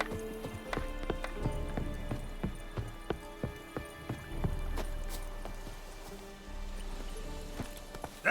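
Roach, a horse in The Witcher 3 video game, gallops with rapid, rhythmic hoof clip-clops over soft ground. The hoofbeats are fairly close and steady, then ease off toward the end.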